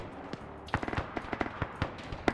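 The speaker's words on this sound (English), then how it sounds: "See a little bit of return fire starting to go out." Gunfire exchange in the video game Just Cause, with scattered sharp shots and short bursts crackling at mid distance, irregular and sparse over quiet background, no talking.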